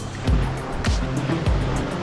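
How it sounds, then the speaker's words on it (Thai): Sea waves wash onto the shore at Hua Hin in a continuous close surf roar, with low rumbling surges recurring about every half second to second. "ฟังเสียงคลื่น"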